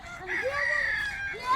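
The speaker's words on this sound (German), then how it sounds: "die beiden sind Hühner" Plump farmyard chickens give one drawn-out, strained call lasting over a second, close and fairly loud, with a short squawk at the end.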